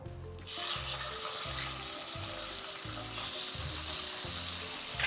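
Chicken breast frying in olive oil in a pan over medium heat. A loud, continuous sizzle bursts in after a brief pause and holds steady throughout, close up, with no talking.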